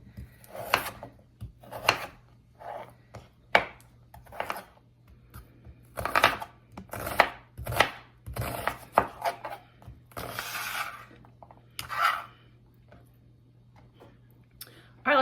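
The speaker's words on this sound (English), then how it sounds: "we're gonna chop up our 5 potatoes that we've peeled" Irregular knife chops on a cutting board, dull thuds and scrapes spaced unevenly as peeled potatoes are cut up nearby, no speech.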